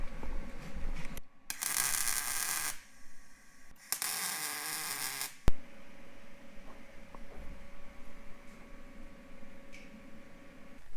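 Tack welding on truck suspension link mounts produces two bright, crackling bursts of a few seconds each, then a sharp snap, followed by a quieter background hum.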